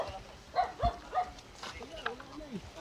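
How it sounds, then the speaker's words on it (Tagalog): A dog barks several times in short bursts outside a property in Quezon City during a court-ordered execution with police present, mixed with people talking nearby. "may aso."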